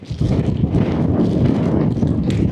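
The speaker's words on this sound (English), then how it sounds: "This wind is 50, gusts at 50 mile an hour, I think." Strong wind gusting hard at a wild camp, a steady loud roar buffeting the microphone throughout with rumbling surges and no pauses.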